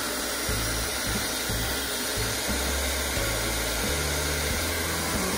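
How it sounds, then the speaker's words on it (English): A hair dryer blows steadily at close range, a constant airy whoosh with a motor hum, faint knocking underneath. "I feel like we should also test kind of with the hair dryer."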